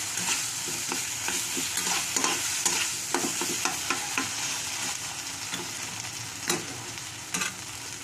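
Potatoes and cauliflower for aloo phulkopir dum stirred dry in a hot pan, a steady soft sizzle with repeated scraping strokes of the spatula close up, no talking.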